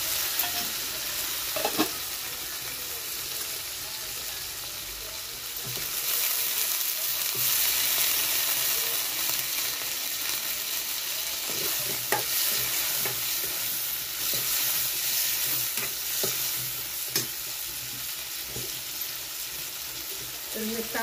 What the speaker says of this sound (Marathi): आपण टमाटे तळून घ्यायचे